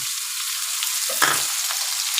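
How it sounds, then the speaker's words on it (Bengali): Chopped onion sizzles in hot oil for a tangra fish curry, a continuous bright, hissing fry close up with one brief stirring scrape partway through. "এবার পেঁয়াজ কুচি দিয়ে দেবো"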